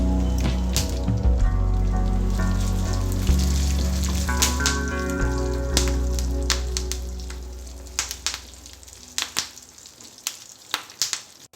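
Mustard seeds, garlic, dried red chilies and curry leaves sizzle and crackle in hot oil in a pan for a peanut gongura chutney tempering, a loud steady fry that thins into scattered pops and spits.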